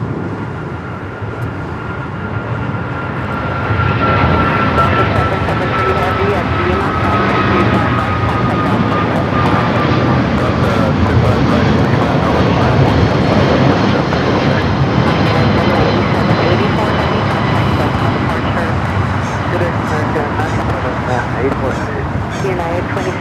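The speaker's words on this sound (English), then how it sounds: "Here's the flight out to JFK, American Airlines 9784" An American Airlines jet bound for JFK roars at LAX, a loud, steady engine rumble with a whining tone that swells and holds throughout, close and continuous.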